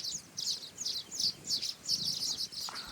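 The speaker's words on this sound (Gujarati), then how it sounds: "આ બધાના માળા જો ચકલી પણ છે જો દેખાય જો" A sparrow near its nests gives a run of bright, quick chirps in regular bursts, moderately close against a quiet outdoor farm background.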